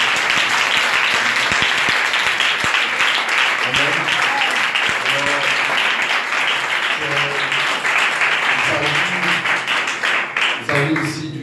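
A church congregation applauding to acclaim God, a steady wash of clapping from many hands throughout, with voices calling out over it.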